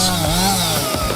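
A chainsaw running while felling a tree at a Montana log cabin building site, a loud close steady engine whine cutting through wood without pause.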